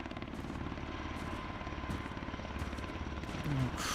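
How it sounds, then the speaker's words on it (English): A helicopter drones overhead in the video game Road to Vostok, a steady dense rotor thrum that fills the scene at moderate distance without letup. "At least I'm figuring that's from the helicopter"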